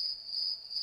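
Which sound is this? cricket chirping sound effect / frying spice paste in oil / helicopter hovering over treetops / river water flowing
cricket chirping sound effect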